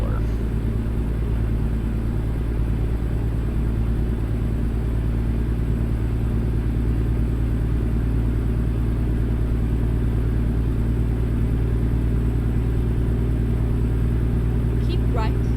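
Freightliner FLD truck engine in American Truck Simulator, a steady loud low diesel drone and rumble that holds constant throughout while a voice talks over it.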